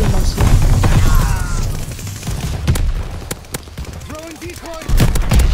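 Gunfire in the multiplayer shooter Call of Duty: Vanguard, with loud, sharp shots cracking in scattered bursts over a constant rumbling battle din, and faint voices in the background.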